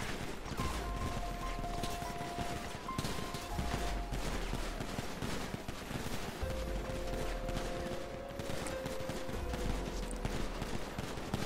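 Rapid bursts of gunfire crackle continuously over a dense, busy backdrop of GTA V game noise, with low booms and sustained tones underneath.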